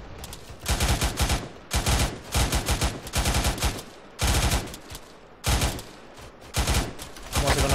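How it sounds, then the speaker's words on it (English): Machine gun fire in a military squad shooter game, with repeated loud bursts of automatic fire alternating with brief lulls, sometimes overlapping into dense volleys, several bursts over the span. "Machine guns should be suppressing"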